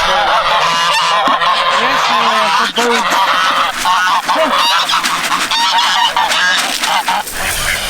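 A flock of geese and ducks honk and quack loudly and continuously, overlapping calls close by with constant outdoor noise.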